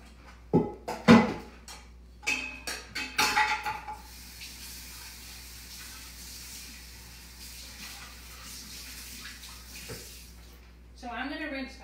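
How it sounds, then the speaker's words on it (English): Water runs from a kitchen tap to rinse out a container while preparing a meal, with clattering handling sounds early on, then a steady stream of flowing water; a voice speaks briefly at the end. "So I'm going to rinse out this,"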